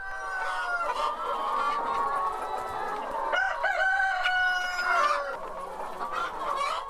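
Chickens on a Korean animal-welfare certified farm cluck continuously, with a rooster's crow rising near the middle, several birds close and overlapping in a busy, steady chorus without talk.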